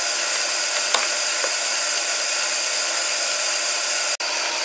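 A Bechler Simplex gear cutting machine runs with a steady, dense mechanical whir and hiss, loud and unchanging, marked by a faint tick early on and one sharp click near the end.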